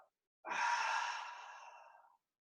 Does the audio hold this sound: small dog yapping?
no